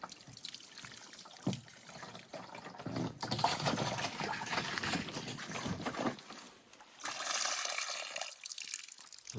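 Water pours from a raised jug and flows away in a gurgling, trickling stream, close by and uneven, with brief pauses and a renewed surge near the end.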